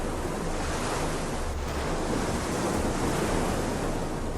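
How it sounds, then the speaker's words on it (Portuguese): Huge Atlantic waves crash along the Nazaré coast, a dense, continuous roar of surf mixed with gusting wind buffeting the microphone, loud and steady throughout with no voices. "Em Nazaré, as ondas não se levantam, elas se erguem como montanhas líquidas"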